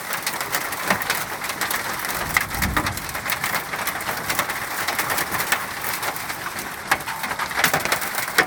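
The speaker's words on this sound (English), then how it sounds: "I'm hearing some heavier hailstones land." Heavy hailstones land outdoors in a dense, crackling patter of sharp hits on surfaces, with occasional louder knocks standing out from the steady clatter.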